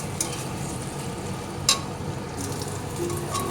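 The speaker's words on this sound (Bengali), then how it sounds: "এখানে মশলাটা কষানো হয়ে গিয়েছে আর এখন আমি দিয়ে দিলাম এগুলো এখন সুন্দর করে কষবো" Spice paste with cumin, ginger and chili frying in a pan, a steady soft sizzle with occasional stirring scrapes, close and unbroken, without speech.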